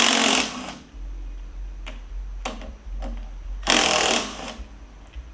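A power tool works on the flywheel bolts of a Briggs engine from a John Deere E140 lawn tractor, giving a loud opening burst, then short sharp rattles and a second strong burst over a low steady hum.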